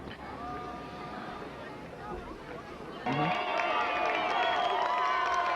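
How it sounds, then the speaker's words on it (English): A crowd in the stands at a high school football league final between Santa Fe Christian and Bishops claps and murmurs in steady, dense noise. Partway through it swells louder, and brassy tones join in. "The stands on each side of the field really doing a lot of clapping now"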